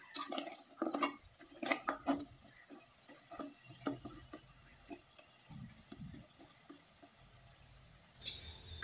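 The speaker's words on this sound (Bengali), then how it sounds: "এবার আমি কয়েকটা পিঠা তেলে ভেজে দেখিয়ে দেব" Coconut puli pitha fry in oil in a pan over low heat, with a faint steady sizzle under scattered metal clinks and scrapes of a utensil against the pan.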